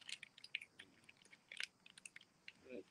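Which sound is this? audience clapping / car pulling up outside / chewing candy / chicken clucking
chewing candy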